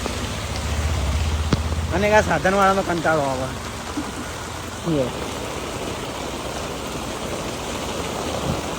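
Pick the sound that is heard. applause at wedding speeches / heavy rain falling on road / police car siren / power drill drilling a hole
heavy rain falling on road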